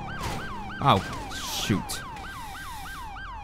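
A police siren wails in GTA 5 during a motorcycle patrol, a steady up-and-down yelp repeating throughout, with two short bursts of other noise and a brief spoken exclamation over it.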